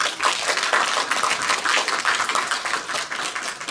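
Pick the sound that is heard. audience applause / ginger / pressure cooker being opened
audience applause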